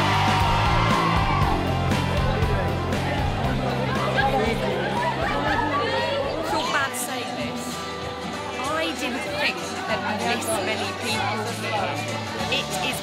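Fans crowded into a shop in France scream and yell for a singer, a dense, loud wall of shrieks and excited chatter sustained throughout.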